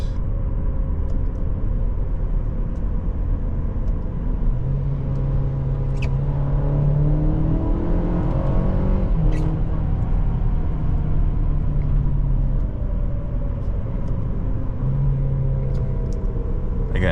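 A 2021 Buick Envision accelerates through its gears under paddle-shift manual mode, a muffled cabin engine drone rising in pitch, then dropping at each shift before climbing again, moderately loud with no voices.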